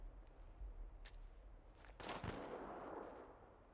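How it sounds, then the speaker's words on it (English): A burst of gunfire in Fallout 76 Nuclear Winter: a sharp shot, then a louder volley with a lingering noisy rumble that trails off. "I hear gunfire."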